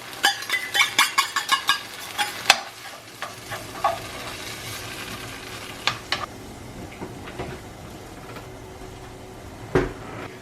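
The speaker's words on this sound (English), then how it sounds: "Now I'm gonna lower the heat all the way down to low and just allow the sauce" Chicken in sauce simmering in a pan on low heat, with a steady soft sizzle beneath a quick run of stirring and utensil clicks early on, then occasional sharper taps; no talking.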